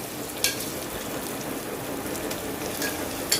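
Marinated chicken frying with browned onions in a pan, a steady loud sizzle throughout with a couple of sharp clicks at the start and end.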